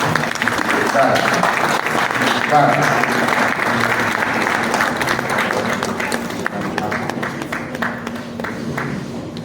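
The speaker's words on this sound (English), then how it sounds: "Please, a round of applause for us, please." Sustained applause from a crowd, steady and fairly loud, slowly tapering off toward the end.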